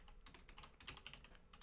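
Rapid typing on a computer keyboard while writing C++ code, a quiet run of irregular key clicks with short pauses, fairly close and with no talking.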